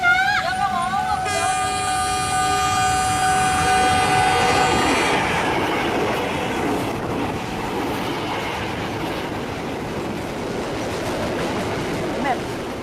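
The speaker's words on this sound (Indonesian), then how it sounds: "Tuh kan beneran ada kereta, cepetan." A passing train sounds a long, loud horn, followed by rumbling rail noise as the cars roll by, with voices talking nearby.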